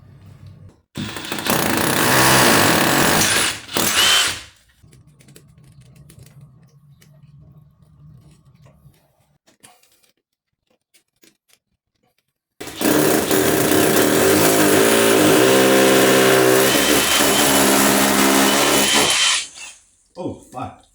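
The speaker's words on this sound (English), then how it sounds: "that's what happens when you drill into a wall" Two loud bursts of a power drill boring into a wall, a short one near the start and a longer sustained run later, separated by a quieter stretch with faint voices.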